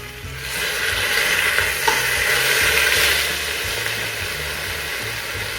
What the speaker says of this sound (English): Oh, listen to the sizzle.